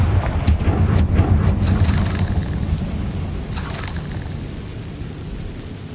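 A deep booming blast from the Confringo fire spell in the Hogwarts Legacy video game, with sharp crackling bursts up front and a rumbling tail that fades out over several seconds.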